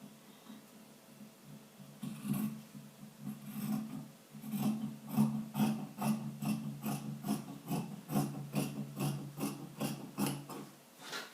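Scissors cut fabric for a blouse yoke, giving a series of crisp, close snipping and rasping strokes in a steady rhythm, quiet and alone against a soft background hum.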